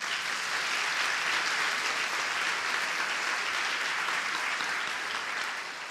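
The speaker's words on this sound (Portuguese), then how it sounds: "Pode aplaudir" A congregation at a church sermon breaks into loud, sustained applause that fills the full six seconds, steady and dense before easing slightly at the end.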